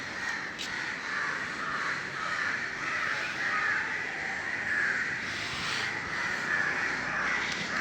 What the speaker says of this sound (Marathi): कावळ्यांचा एवढा का आवाज येतो?